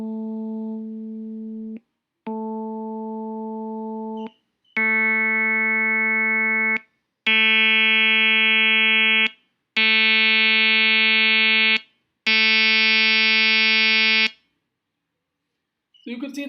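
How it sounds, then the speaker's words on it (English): Six steady synthesized tones on one pitch, each a couple of seconds long and separated by short silences, gaining harmonics from pure to bright, buzzy and rough, loud and alone until a brief sound at the end. "the sound becomes crappy or rough as you extend the number of harmonics in the sound"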